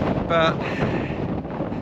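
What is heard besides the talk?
strong wind blowing into the microphone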